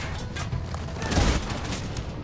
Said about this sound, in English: Oh! So many explosions.